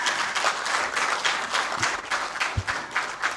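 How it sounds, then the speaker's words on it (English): An audience at the release of the May/June 2025 assessment results breaks into steady applause, with dense, sustained clapping from many hands through the whole moment and no talking over it. "please you clap for the minister."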